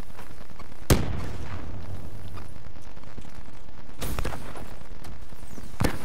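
Sharp booming blasts from a grenade explosion and gunfire in Call of Duty Black Ops III, three loud distinct bangs spaced a few seconds apart over a low rumbling background.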